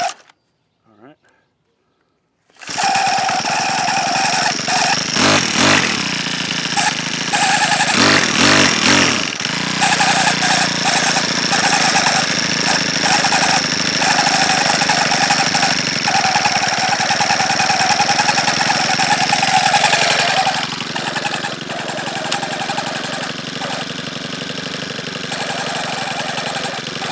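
A Cub Cadet SS470 string trimmer engine runs steadily at idle for most of the stretch after a short quiet start, with a few louder revving bursts near the beginning and a dip around the twenty-second mark.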